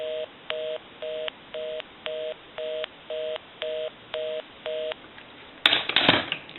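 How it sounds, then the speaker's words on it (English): Rotary dial of a Western Electric French style telephone returning after each pull, a steady run of ten evenly spaced clicking tone bursts close up, followed by a brief burst of rattling handling noise. "We're going to dial my number first, and that'll be busy."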